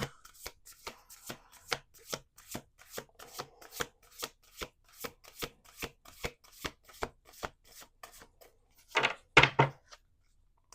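A deck of cards is shuffled up close: a long run of crisp, evenly spaced riffle clicks, ending in a louder, denser flurry as the cards bridge together.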